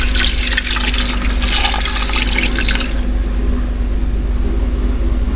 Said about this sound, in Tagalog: So ito naman, lalagyan na natin siya ng tubig guys.